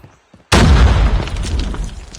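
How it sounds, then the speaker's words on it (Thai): Silence, then a sudden loud grenade explosion in the game Call of Duty Mobile bursts in with a heavy, booming low rumble that slowly tails off. "โยนระเบิดไปก่อนขู่มันไปก่อน"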